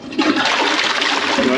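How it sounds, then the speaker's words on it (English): A repaired toilet is flushed close by, giving a loud continuous rush of swirling water with no speech. "Flush it."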